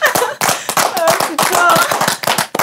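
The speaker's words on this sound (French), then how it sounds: "Applaudissements s'il vous plaît pour Melvin et Clément." Studio audience clapping to welcome two guests onto a French talk show set, a dense burst of hand claps lasting a couple of seconds, loud and close, with a voice speaking over it.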